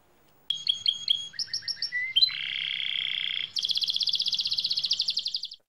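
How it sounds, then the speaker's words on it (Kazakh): Exotic songbirds and parrots in a home aviary in Shymkent chirp and whistle in quick repeated phrases, then a sustained buzzy trill and a rapid rattling series, bright and close with no talk. "Ол шаңырағында экзотикалық және әнші әсем құстардың көптеген түрін өсіріп келеді"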